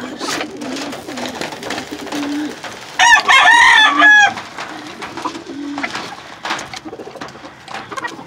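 A rooster's harmonic crow rings out clearly for about a second amid steady background noise and low murmuring, heard nearby.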